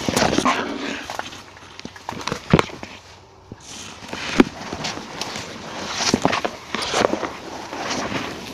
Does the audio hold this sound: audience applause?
no